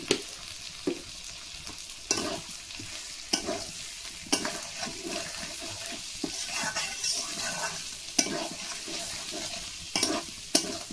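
Bengali prawn malaikari simmers in a pan with added sugar while it is stirred, giving a low steady sizzle punctuated by sharp spoon knocks every second or two, quiet and close, no voices.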